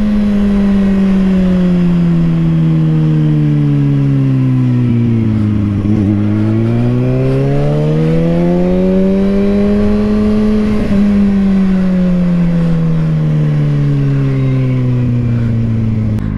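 A Ferrari engine revving as it drives past, a loud smooth tone that falls and rises in pitch over several seconds, close and sustained with no voices over it.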